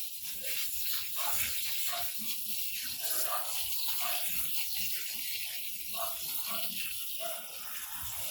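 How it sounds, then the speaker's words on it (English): Water poured over freshly transplanted leeks top-dressed with horse manure in a tropical garden, a continuous splashing, gushing flow with small irregular spatters throughout. "Let me just water them in again."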